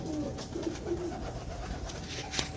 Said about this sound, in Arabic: الحمام على ما يرام